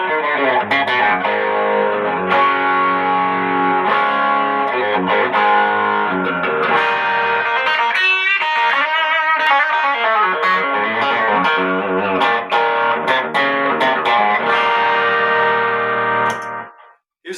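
Electric guitar played through a Timmy overdrive pedal, loud and sustained, with strummed chords and single-note phrases that ring out before the sound cuts off at the end.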